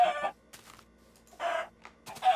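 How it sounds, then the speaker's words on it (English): Minecraft chicken clucking in short bursts, three or four loud, close squawking calls spaced across a couple of seconds over a quiet game background, with no speech. "Chicken."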